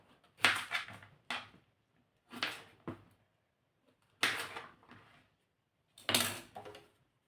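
Cucumbers grated with their skins on against a thick grater: five separate rasping strokes, each a short scraping burst with quiet gaps between, close and fairly soft.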